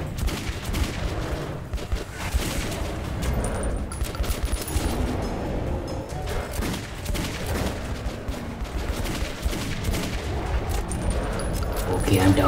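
Sustained gunfire in the video game Metro 2033 Redux, dense rapid volleys and scattered shots echoing continuously, with voices talking over the shooting throughout.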